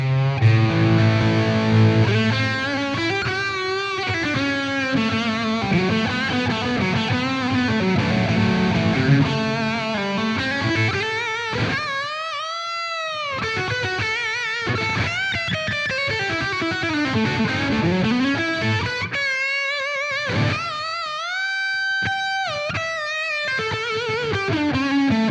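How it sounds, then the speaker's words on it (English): Electric guitar through an amp tone on a Universal Audio Ox Stomp, with plate reverb added. Distorted chords and sweeping lead lines ring out continuously with a long reverb tail and no talking. "So let's put some plate reverb in there."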